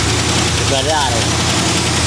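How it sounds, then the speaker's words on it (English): A long-unused car engine, probably low on oil, idles steadily just after starting, with a constant close rumble. "Let it idle."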